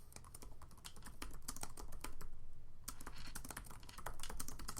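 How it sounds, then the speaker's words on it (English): Rapid clicking of fingers typing on a computer keyboard, close and steady with short pauses, heard alone without voices. "you can hear me typing"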